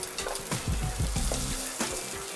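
Garlic and onion hit hot oil in a pan for chicken tinola, a short burst of close sizzling with sputtering pops and a sharp rise as the aromatics go in.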